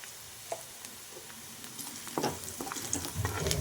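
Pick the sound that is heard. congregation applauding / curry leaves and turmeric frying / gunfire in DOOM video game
curry leaves and turmeric frying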